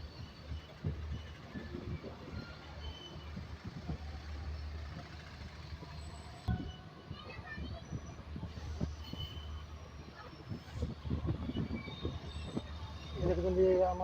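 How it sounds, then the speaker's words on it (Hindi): A passenger train rolls into Sambalpur Junction on a curve toward platform 3, with steady rumbling wheels and carriage noise throughout and a sharper rise near the end, heard from on board. "ବର୍ତ୍ତମାନ ଆମ ଟ୍ରେନ୍ ସମ୍ବଲପୁର ଜଙ୍କସନକୁ ଏଣ୍ଟ୍ରି କରିବାକୁ ଯାଉଛି।"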